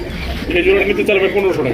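Close, warbling coos of Magpie pigeons in a short run of rolling calls.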